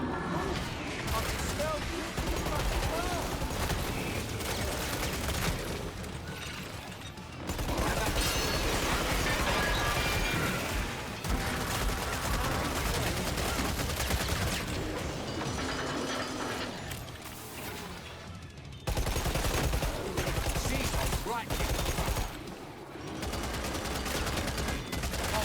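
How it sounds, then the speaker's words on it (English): SCAR and AK rifle gunfire in the Killing Floor 3 video game, a continuous dense clatter of rapid shots and mechanical weapon noise that pauses briefly twice, with a voice speaking over it. "It's the sound difference between the SCAR and the AK is very sad."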